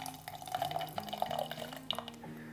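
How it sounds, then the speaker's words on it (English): Home-brewed kombucha poured into a glass, a soft steady trickle of liquid with light fizzing and faint glassy clinks over a low background hum, close by and fairly quiet. "Just going to go ahead and pour a little bit."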